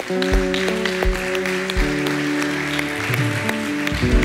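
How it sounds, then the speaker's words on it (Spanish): A church congregation claps together after a sermon prayer, the dense applause running steadily over several seconds with sustained organ or keyboard tones ringing underneath. "Dale un aplauso a Cristo."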